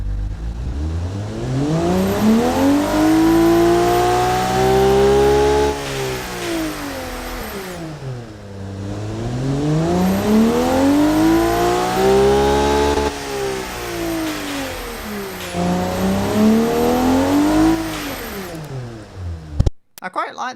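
A transversely mounted, turbocharged inline-6 engine in a sporty minivan in BeamNG.drive revs up and down repeatedly. The pitch rises and falls in long smooth sweeps, loud and close throughout.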